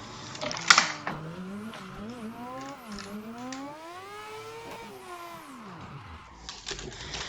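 A Mazda RX7 rotary engine builds speed in second gear toward about 140, its pitch sweeping up, dipping and climbing again in long rising whines, heard up close from inside the car.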